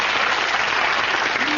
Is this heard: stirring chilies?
no